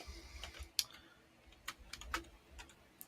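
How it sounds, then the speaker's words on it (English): Quiet, sparse keyboard typing during a podcast call, a few scattered soft clicks and taps spread across a faint, hissy background. "I can hear you typing it."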